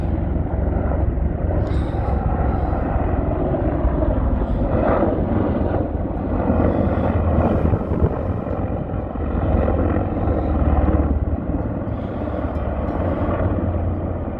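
Aircraft from a military exercise roar overhead while on a countryside walk in the Derwent Valley, a loud, sustained engine drone that swells and holds steady for the whole stretch, with no talk over it.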